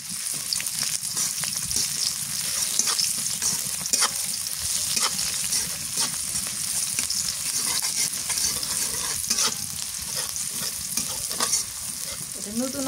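Chopped onions fry in mustard oil with bay leaves in a pan, a dense continuous sizzle close up, punctuated by frequent clinks and scrapes of stirring throughout, with no speech.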